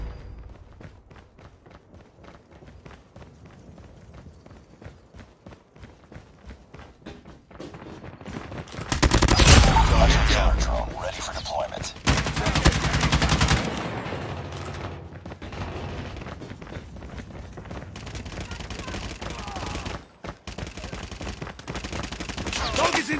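Gunfire rings out in the Call of Duty Mobile video game, with bursts of rapid shots and loud blasts in the middle section and quieter movement and thumps before and after.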